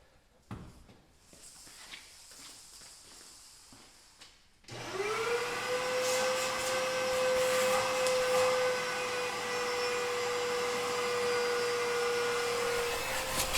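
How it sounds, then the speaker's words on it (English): A vacuum cleaner switches on after a few seconds of quiet handling sounds and then runs with a loud, steady whine while cleaning out the interior of a 1969 Dodge Super Bee, close to the mic. "We're going to get the vacuum too."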